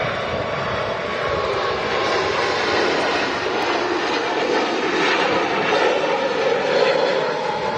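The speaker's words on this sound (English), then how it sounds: "Wow, love that takeoff." An airliner takes off at Manchester Airport, a loud, steady broadband jet roar holding constant throughout with no voices over it.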